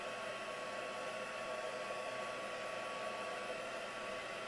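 A hair dryer blows steadily on wet paint, a loud, even rushing whoosh with a constant motor hum that holds unchanged throughout, with no voices.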